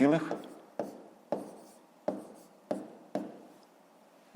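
Numbers being written by hand with a pen on paper during a fifth-grade math exercise, a series of close, regular scratchy strokes roughly every half second.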